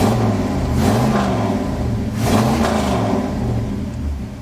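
A dually pickup truck's engine runs after an exhaust manifold repair, idling with a low rumble and revving up twice in smooth swells, loud and close, with no talk.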